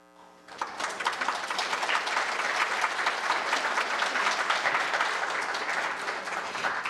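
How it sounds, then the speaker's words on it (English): Audience applause at a congressional district candidate forum, a dense burst of clapping that starts abruptly after a brief quiet moment and holds steady at full strength before tapering slightly near the end. "If we could please hold our applause until both candidates are done with the forum tonight"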